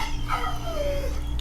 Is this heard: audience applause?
no